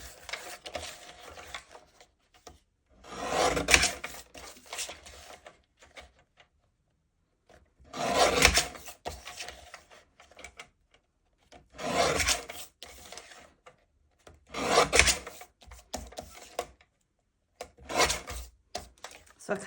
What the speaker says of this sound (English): take our trimmer and just go in and trim this down